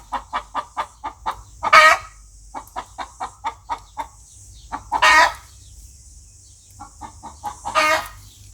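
A hen clucks in quick rhythmic runs of short notes, broken by three louder drawn-out squawks, close and clear with no talking.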